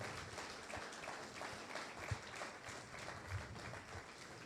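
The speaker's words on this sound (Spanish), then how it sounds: "Alguien dé un fuerte aplauso al Señor Jesucristo." A church congregation applauding during a Spanish-language sermon: a soft, distant, even wash of many hands clapping, continuous throughout with a couple of slightly louder thumps.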